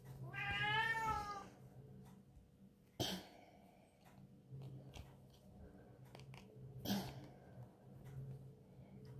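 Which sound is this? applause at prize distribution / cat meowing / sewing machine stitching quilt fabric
cat meowing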